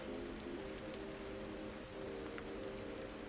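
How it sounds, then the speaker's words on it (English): Rain falls on wet asphalt outside in a city alleyway, a close, continuous hiss with scattered drops over a faint low hum, with no voices. "There, just the rain left, slicking the asphalt outside, washing away the grime of Sector 4."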